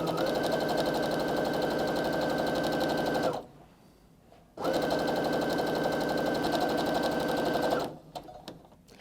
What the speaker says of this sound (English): I'm set up to sew just a regular 1/4 inch seam, and my needle should have started right where I made that mark